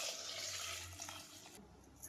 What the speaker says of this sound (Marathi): आता मी याच्यामध्ये ऍड करत आहे पाणी